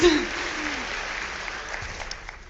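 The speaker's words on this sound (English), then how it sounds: "applause for that" Audience applause breaks out during a talk on adolescent brain development, a dense wash of clapping that swells at the start and then fades under a voice speaking over it.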